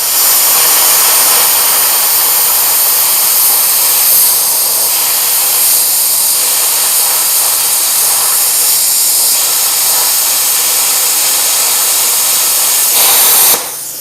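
A Bestarc BTC500DP plasma cutter set to 45 amps and 50 psi cuts a chunk of half-inch steel, a loud, steady, close hiss of air and arc that runs continuously before cutting off abruptly at the end.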